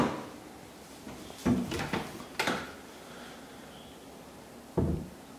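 Self-closing white kitchen cabinet drawers shut with soft thuds, several closes spaced out with brief sliding sounds before each, close by in a quiet room.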